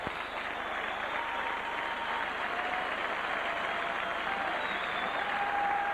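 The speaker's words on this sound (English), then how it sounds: "What a cheer, what an ovation for these 2 players, Arkwright and Clark." A crowd at a rugby league match applauds and cheers players coming off, a sustained roar of clapping that holds loud and steady throughout.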